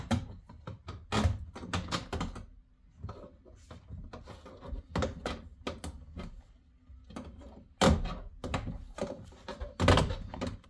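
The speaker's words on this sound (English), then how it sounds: "We're gonna go ahead and pop off all these clips and then take the door panel off." Plastic door panel clips being pried off a Ford Foxbody Mustang door, a series of sharp, close thunks and pops in irregular bursts with a few louder snaps.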